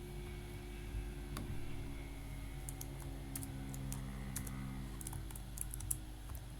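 Computer keyboard tapped while entering CSS code: soft, irregular key clicks in short bursts over a low steady hum, fairly quiet and close, with no voices.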